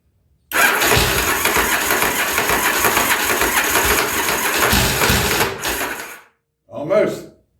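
A 1983 Yamaha Virago 920 barn-find motorcycle engine is cranked hard, a loud, close churning for about five seconds that dies away, followed by one more short burst.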